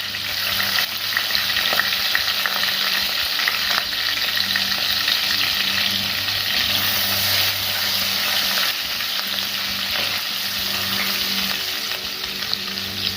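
Green chillies, crushed ginger and garlic fry in oil for a Kerala sardine curry, a loud continuous sizzle and crackle held close for over thirteen seconds, no voices over it.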